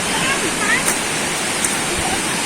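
A river rushes beside a forest trekking path in General Nakar, Quezon, as a steady, loud broadband wash of flowing water with no breaks.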